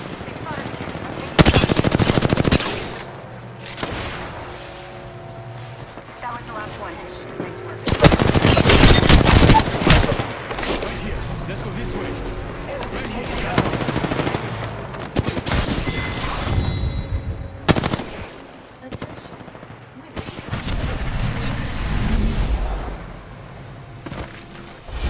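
Sustained automatic gunfire in Apex Legends comes in loud, dense bursts with short pauses between them, mixed with booming impacts and brief speech.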